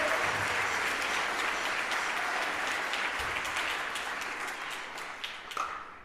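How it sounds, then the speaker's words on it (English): Sustained applause from an audience at a middle school percussion concert, following a student's drum solo. The dense clapping runs steadily for about six seconds and fades slightly toward the end. "How about one more round of applause for Ben for that awesome solo."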